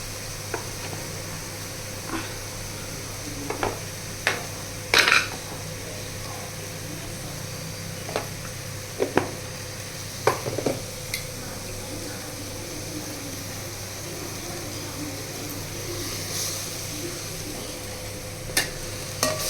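Food fries with homemade chili powder in a pan over a low flame, giving a steady soft sizzle under repeated sharp scraping strokes of a spoon as it is stirred.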